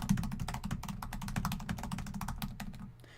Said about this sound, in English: That is just how the keyboard sounds.